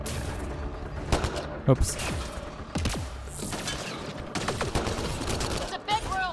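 Gunfire in the video game Mass Effect Andromeda, scattered shots and bursts mixed with game effects and combat clatter, with people talking throughout.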